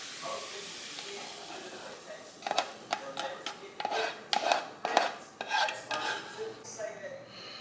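Cooked vegetables being combined with noodles in a cooking pot for a vegetarian pasta, with a run of clinking and scraping utensil knocks against the pot over a soft sizzle in the background.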